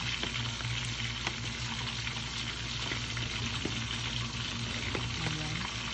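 Fish sizzling and splattering in a hot pan while cooking ginisang upo with sardines, a steady, dense frying crackle that runs the whole time at close range, with occasional sharper pops and no talk.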